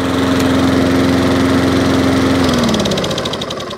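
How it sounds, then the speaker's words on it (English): A petrol 21-inch Wolf lawnmower engine runs loud and close with a steady buzzing drone, then the pitch drops slightly near the end as it slows. "Nice little 21-inch Wolf lawnmower for nothing."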